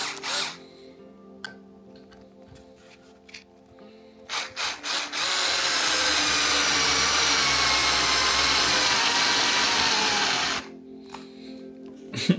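A Ryobi USB Lithium 4V cordless screwdriver runs steadily for about six seconds with a close, whirring motor drone, preceded by scattered clicks and handling knocks as the switch is worked.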